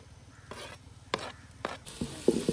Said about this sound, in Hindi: प्याज के नरम होने पे साथ ही हम कढ़ाई में डालेंगे फ्रेश लहसुन